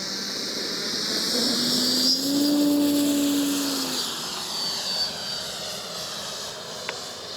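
A Legend Hobby OA-1K Skyraider II radio-controlled model plane flies touch-and-goes at an outdoor field. Its electric motor whine rises and falls in pitch as it passes at a moderate distance over steady background noise.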